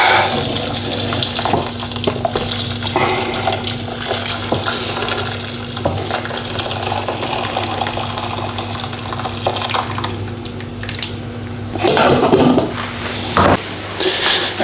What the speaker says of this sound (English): So I'm just going to pour the boiled water into the rice.